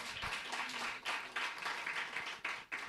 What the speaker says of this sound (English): I think we deserve a big round of applause to ourselves.